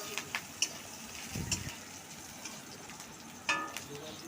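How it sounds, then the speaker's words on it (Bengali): Ginger and chilli fry in hot oil in a wok, a steady soft sizzle with a few sharp crackles and a brief stirring scrape, no voices. "তেল গরম হয়ে যাওয়ার পর আদা আর লঙ্কা দিয়ে ভালো করে তেলের ওপর ভেজে নিতে হবে"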